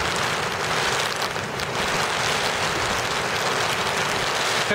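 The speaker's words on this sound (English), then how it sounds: "It is just a lot of rain, like I said." Heavy rain from Tropical Storm Irene pours down in Boston, a dense, loud, unbroken hiss of falling water that fills the whole stretch without pause.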